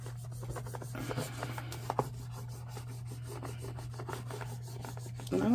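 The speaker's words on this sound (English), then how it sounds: "I'm going to burnish this sticker down." Soft rubbing and scraping as a sticker is burnished down onto a paper planner page, a steady gritty friction with a few brief louder strokes, close and alone over a low constant hum.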